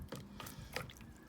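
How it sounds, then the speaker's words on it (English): A fibreglass resin tool rinsed in a tub of acetone gives off soft, close liquid sloshes and drips, with a few brief splashy bursts over a low murmur. "turn it over and give it a good rinse in the acetone"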